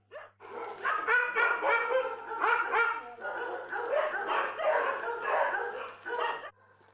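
Several dogs at an animal shelter bark and yip continuously, a dense overlapping chorus that stays fairly loud throughout before cutting off near the end.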